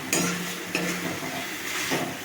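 Pieces of patra are stirred into a hot cooking pan with a spoon, giving a few scraping, clattering strokes over a soft continuous sizzle, close and fairly loud.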